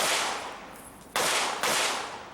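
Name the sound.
gunshots from a shooter running an IDPA match stage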